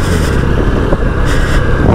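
A Honda CB200X motorcycle being ridden, a loud, close, rushing engine and road noise with wind buffeting and no speech.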